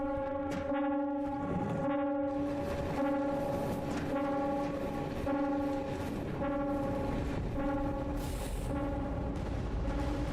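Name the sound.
train alarm sounding after train explodes in video game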